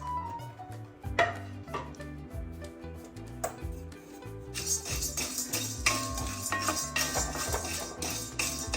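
Pumpkin seeds are stirred and roasted in a pan, with a steady run of close metallic scraping and clinking of utensil against the pan, growing louder and denser in the second half, with no talk.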